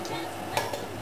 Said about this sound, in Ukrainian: Знову все перемішую.